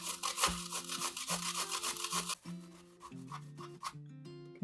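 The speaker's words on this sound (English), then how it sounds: "Okay, just like that, our zucchini is grated." A zucchini rubbed by hand against a grater in quick, regular rasping strokes, close and steady, followed after a brief gap by a second run of grating.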